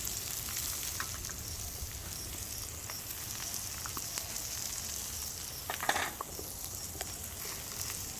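Onions sizzle steadily on a hot barbecue grill for a Juicy Lucy burger cook, a continuous close frying hiss with a few brief louder crackles near the end and no talking.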